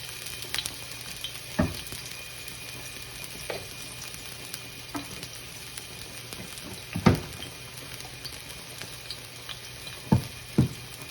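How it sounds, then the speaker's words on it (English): Garlic fries in a pan for fried rice, a steady close sizzle running throughout with a few sharp clicks and taps from the pan or utensil. "Garlic's something we don't want to burn anyway, so we're just going to go ahead and throw some in."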